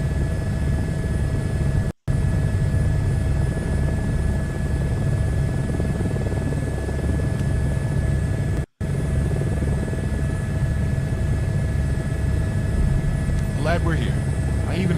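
Helicopter ride in Microsoft Flight Simulator 2024: a loud, steady rotor and turbine drone runs throughout, broken by two brief dropouts, with a faint voice near the end.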